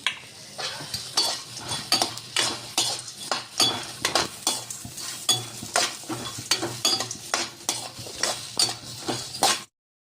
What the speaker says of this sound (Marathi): सगळे शेंगदाणे यामध्ये भाजायचे याला मी थोडं भाजून घेणार आहे आता